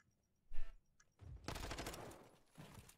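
Gunshots in a Call of Duty esports match: a sharp isolated burst, then a longer rapid volley of automatic fire that rings on and fades.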